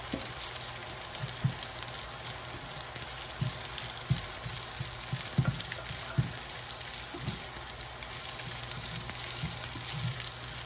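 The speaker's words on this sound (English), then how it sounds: "So you are literally just frying." Curry fried rice sizzles in a pan with a continuous crackling hiss, broken by occasional soft clinks and scrapes, at moderate volume with no one talking.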